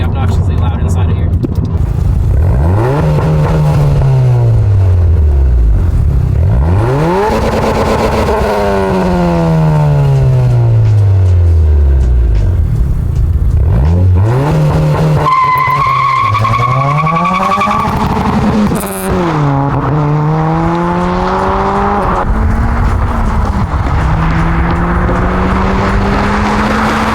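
An 11th-generation Honda Civic with a new aftermarket exhaust, heard from inside the cabin as the engine drone repeatedly rises and falls through gear changes while accelerating, fairly loud and continuous, with talking over parts of it.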